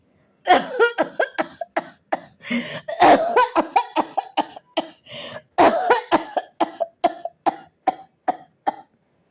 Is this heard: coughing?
yes